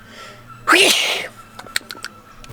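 A single loud, close sneeze bursts out in a garage during a Mazda MX-5 turbo build. Faint clicks and taps follow it.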